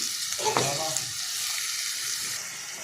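Chopped tomatoes drop into a pan of well-fried onions, giving a brief louder splash of sizzle near the start, then a steady, close hiss of frying that carries on alone to the end.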